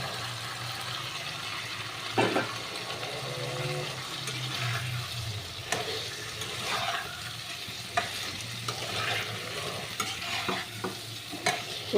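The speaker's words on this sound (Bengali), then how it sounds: "এবার আমি আলু আর ফুলকপিগুলোকে ছেড়ে দিলাম।" Potatoes and cauliflower fry in hot spiced oil for a katla fish curry, a steady sizzle broken by repeated scraping stir strokes in the pan.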